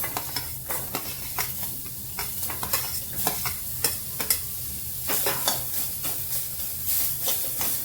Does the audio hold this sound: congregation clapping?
no